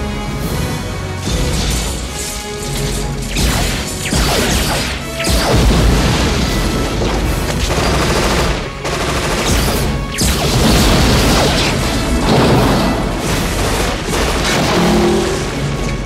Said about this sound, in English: Kruger emerges from the warehouse, armed with a pair of Sirez railguns, and blasts away at the many random bad guys waiting for him outside